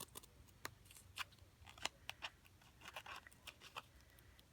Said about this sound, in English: let's go ahead, cut off some of these extras.